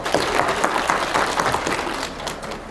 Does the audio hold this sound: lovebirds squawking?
no